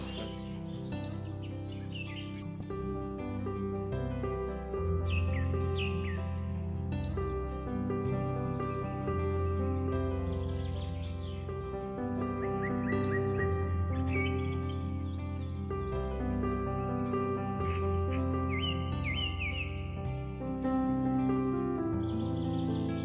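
Several white-rumped shamas (murai batu) chirp and whistle in a mini breeding aviary, a steady mix of bright varied song phrases over a busy, continuous background, fairly close and moderately loud throughout.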